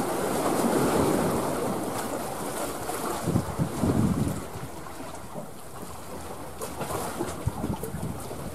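Steel-hulled fishing boat motoring into a harbour off Phu Quy island, Binh Dinh purse-seine and trawler fleet sheltering from wind; a steady low engine rumble under heavy wind buffeting and lapping waves, with no talking.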